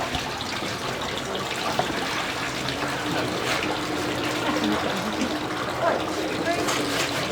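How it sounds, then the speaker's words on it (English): Seawater rushes and drains steadily out of gear hauled aboard during a man overboard recovery demonstration at sea, a continuous, fairly loud wash with no clear breaks. "This is going to get nice now as all the water comes out."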